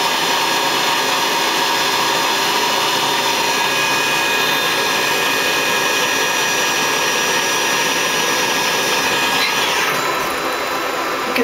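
A Star SW7R lathe spindle spinning at 6000 RPM gives a steady, loud machine whine with airy hiss. The sound holds constant and shifts slightly near the end.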